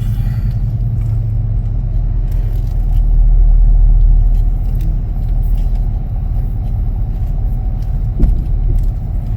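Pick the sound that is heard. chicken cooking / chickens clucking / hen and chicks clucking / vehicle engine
vehicle engine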